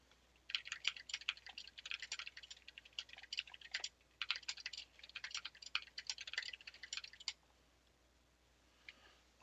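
An M65-A custom mechanical keyboard is typed on with no wrist rest, producing quick, crisp key clacks in two long runs separated by a short pause and then tapering off. The clacks sound close and fairly quiet, with no talking.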